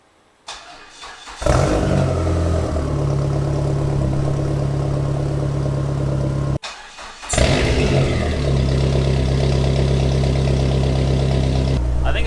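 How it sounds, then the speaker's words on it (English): A car exhaust fitted with a new Vibrant Performance Ultra Quiet Resonator muffler starts up and settles into a steady, loud idle with a deep drone. It briefly cuts out midway, then restarts and idles steadily again. "here goes first sound clip since the new muffler's been installed"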